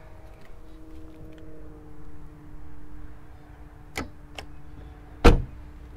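A fuel filler flap on a Mercedes CLA 250e plug-in hybrid pops open with a single sharp click, preceded by two lighter ticks, over a quiet background hum.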